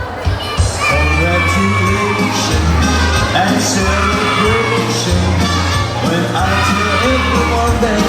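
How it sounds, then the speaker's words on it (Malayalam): Students cheer and shout loudly at a school sub-district arts festival celebration, a dense, continuous crowd roar with excited children's whoops over a thumping beat. "അറിവിന്റെ അക്ഷരമുറ്റത്ത് ആനന്ദത്തിന്റെ ആരവമുയർത്തി വിദ്യാർത്ഥികൾ ആവേശ നൃത്തം ചവിട്ടി"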